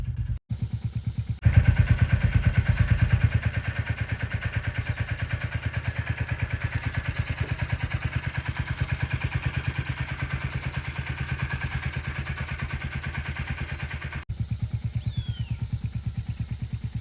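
A motorcycle loaded with luggage runs steadily for most of the stretch, its engine giving a close, even, pulsing rumble that starts abruptly and cuts off near the end, with no talk over it.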